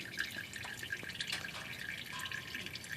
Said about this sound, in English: The fluid's starting to taper off.